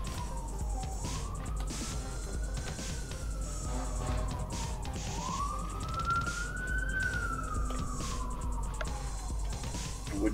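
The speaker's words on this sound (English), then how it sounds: "Wouldn't be a day in Winnipeg without some sirens." Emergency vehicle sirens wailing in Winnipeg, a rising and falling tone cycling slowly, heard at moderate distance over low city background noise, with no one speaking.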